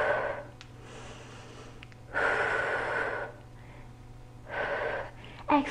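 Breathing during a cardio Pilates workout, with several forceful exhales in bursts separated by quieter pauses, close and loud over a steady low hum.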